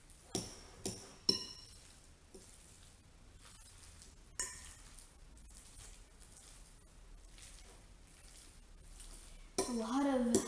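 Potato salad being mixed and stirred in a bowl, with soft scraping and a few sharp clinks of a utensil against the dish, quiet and intermittent, ending in a brief louder burst.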